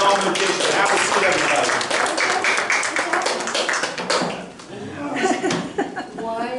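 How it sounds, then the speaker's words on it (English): An audience at a mind-reading magic show claps enthusiastically, a dense, close burst of applause that thins out toward the end while a person talks over it. "All of this applause is for you."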